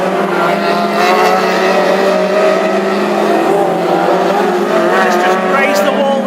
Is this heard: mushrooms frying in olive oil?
no